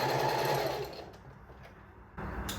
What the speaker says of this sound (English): then we'll just stitch that